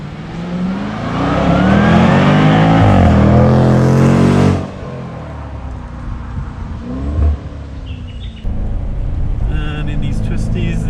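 A 2022 Jaguar F-Pace SVR engine pulls hard under full throttle, its loud rising roar climbing for several seconds before easing off into a steadier drone with voices talking over it.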